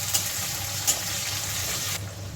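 Two medium onions fry in hot oil with garlic already tempering, giving a steady, close sizzling hiss that stays even for the whole stretch.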